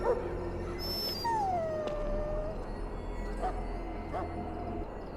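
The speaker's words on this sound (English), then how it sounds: "Now I can treat the dog properly, poor fella." A dog whimpers and lets out a drawn-out, falling howl in the video game Dragon Age: Origins, one long whine over a steady low ambient hum, followed by faint scattered sounds.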